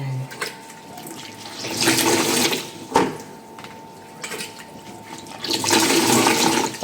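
Water drains out of a machine in loud gushing surges, rising and falling in waves with a sharp splash midway, close and with no voices.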